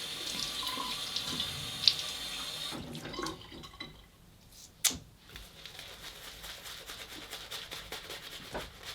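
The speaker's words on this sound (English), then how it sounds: "I'll just wet my face a little." A tap runs into a sink while water is splashed onto the face, a close steady rush at first that thins to faint drips and splashes.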